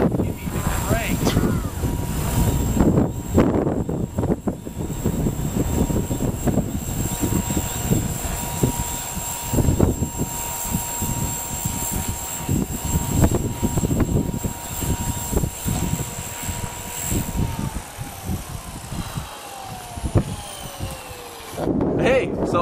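A Walkera V400D02 flybarless RC helicopter flies in strong wind, its steady rotor and motor whine holding fairly close under gusty wind buffeting the microphone, with someone talking over it.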